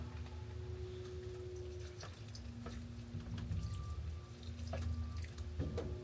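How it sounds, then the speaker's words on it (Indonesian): Dry vegetable seedlings are watered, likely near a greenhouse. A continuous splashing stream of water runs through the whole clip, with a few sharper drips and spatters on top and a faint steady hum underneath. "Ini karena pada kering, jadi saya siram dulu."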